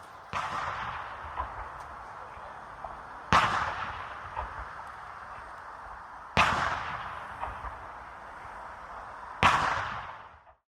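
Four booming ceremonial cannon blasts at the White House, spaced about three seconds apart, each with a long rolling echo that fades before the next shot.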